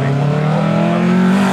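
Fiat Tipo prototype rally car on a live rally stage at a retro motorsport show, its engine roaring loud and close with a rising, sustained rev that builds steadily across the short burst.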